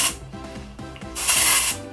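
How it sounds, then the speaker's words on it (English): Texturizing spray hissing onto short hair while it is styled into beach waves, a close aerosol burst near the start and a longer, louder spray about a second later, with faint rustling of hair between. "kind of work that texturizing spray there"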